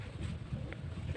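Cold wind gusts against the microphone outdoors, a low buffeting rumble that swells and eases across the brief moment, with no speech.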